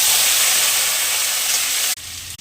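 Mustard seeds and a dried red chilli tempering in hot oil, a steady loud sizzle and hiss that holds close and constant, then drops suddenly near the end.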